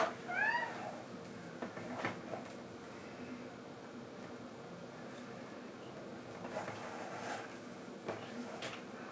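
A cat gives a short meow near the start, then faint clicks and handling noises follow in a quiet room while a tote bag is being stitched.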